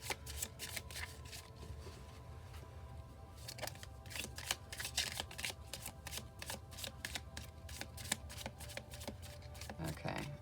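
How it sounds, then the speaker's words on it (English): Tarot cards shuffled in the hands at close range, a quiet, steady run of rapid riffling snaps and slides that keeps going with short pauses. "I don't normally shuffle for this long"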